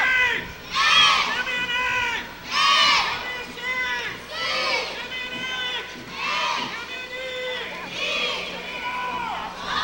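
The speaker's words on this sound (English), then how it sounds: "we just got the Thatcher middle cheer" A Thatcher middle school group cheers and shouts in rhythmic bursts while marching in a 100th anniversary parade in Attleboro, loud crowd voices rising and falling close by, with chanting waves repeating every couple of seconds.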